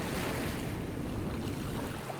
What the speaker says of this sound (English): We have calm waves. We have strong waves.